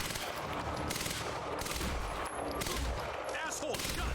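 Gunfire in the video game Quantum Break: a dense, steady fusillade of rapid shots for about four seconds, loud and continuous, with a voice briefly audible in the mix.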